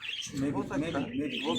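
Pigeons coo in a low, throaty series of rolling calls at close range, with a voice speaking over them in places.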